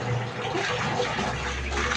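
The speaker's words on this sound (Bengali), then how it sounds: "ও, আর মাছগুলো তো ভালো করে ধুয়ে নিই।" Pabda fish being rinsed under a running kitchen tap, a steady broadband rush of flowing water close by and continuous for the whole stretch, with no talk over it.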